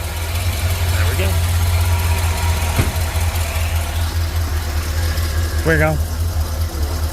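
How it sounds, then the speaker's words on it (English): A car engine idles smoothly with a steady low hum, close by, while a person speaks briefly over it and short tonal squeaks sound now and then. "No, it's just your engine. It's running smoother."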